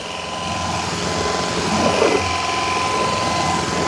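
A Shark PowerPro Flex IZ387H cordless pet vacuum runs over embedded hair, giving a steady close whirring motor drone with a brush-roll rattle throughout and a brief louder scrape midway.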